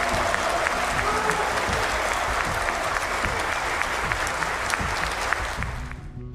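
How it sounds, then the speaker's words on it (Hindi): Sustained, strong applause fills the Turkish parliament chamber after Erdogan takes the presidential oath, many hands clapping steadily with a crowd murmur beneath that tapers slightly at the end. "हल्फ उठाते ही ऐवान मुबारकबादों और तालियों से देर तक गूंजता रहा"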